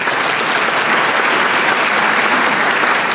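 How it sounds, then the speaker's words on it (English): An audience at a small business recognition awards event gives steady, loud applause for an absent insurance-agency honoree, a dense, even patter of many hands clapping without pause. "Please give her a round of applause."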